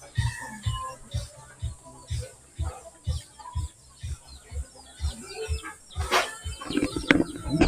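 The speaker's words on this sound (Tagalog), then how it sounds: "Away pa rin yung mga manok tabi kayo dyan manok." Chickens squabble and cluck at a quiet roadside spot in Marinduque, Philippines: repeated low thumping pulses and scattered clucks through the clip, building to a louder flurry near the end, with a voice in the background.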